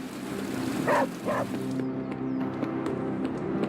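A dog in the video game Marvel's Midnight Suns gives two short barks early on, then a faint whimper over quiet game ambience and background hum.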